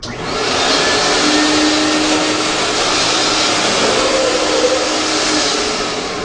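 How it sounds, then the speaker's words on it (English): A wet vacuum sucks up defoamer before recovering floor stripper slurry, running as a loud, steady, close roar from start to finish, with no voices. "Now my vac is ready to pick up the stripper."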